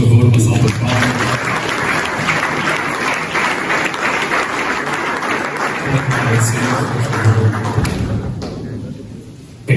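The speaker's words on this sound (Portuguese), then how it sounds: "uma salva de palmas" A church congregation applauds steadily for several seconds, a dense wash of clapping that begins loud and fades near the end.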